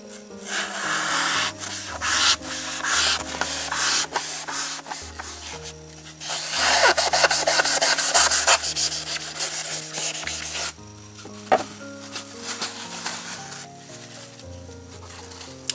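A knife rasps through a block of floral foam being trimmed to fit a pot, a steady close scraping and rubbing in repeated strokes with a short pause near the end, over soft background music.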